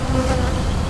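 Honey bees buzz thickly around an open hive as nurse bees are shaken into a colony, a dense, continuous close-up drone with no talking.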